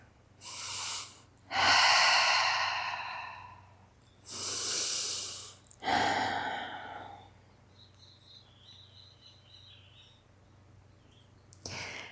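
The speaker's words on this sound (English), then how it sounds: "Continuing to breathe here." Close, audible breathing during a hand and wrist stretch: several deep, airy inhales and exhales in the first seven seconds, followed by quieter stillness, with no speech.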